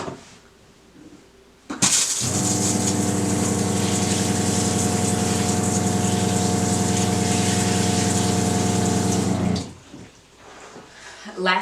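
Water spraying hard from a portable salon shampoo bowl with no plumbing, a loud steady gushing rush with a pump hum that starts abruptly, runs for about eight seconds and then cuts off.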